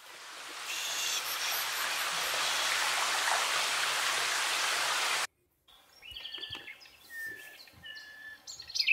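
Water running in a toy bathroom of a Barbie dream house, a steady hissing flow for about five seconds that cuts off abruptly, followed by high squeaky chirps and small clatters.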